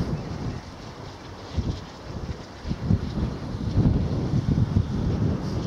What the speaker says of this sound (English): breezy up here now